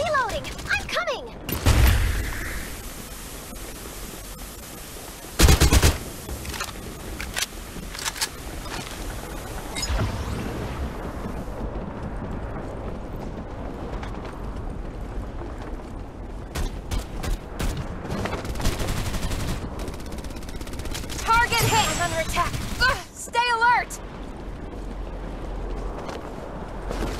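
Multiplayer deathmatch video game: gunfire in scattered bursts and single sharp shots over game ambience, a few loud close cracks standing out among fainter distant fire.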